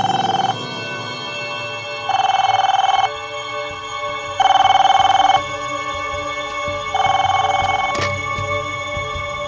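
A telephone rings in three long electronic bursts separated by pauses, fairly loud and close, with a low hum in between.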